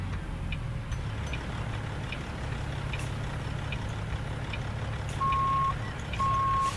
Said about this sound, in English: Still haven't taken that beeper out.